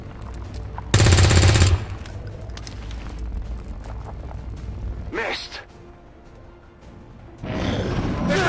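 Bursts of automatic gunfire in the video game XCOM 2: a loud, dense volley early on, then a shorter burst midway and another starting near the end, over a steady game backdrop with talk.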